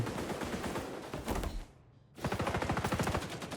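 Rapid automatic AK-47 fire in XDefiant, a loud, close, fast-rhythm burst that breaks off for half a second, then resumes with evenly spaced sharp reports.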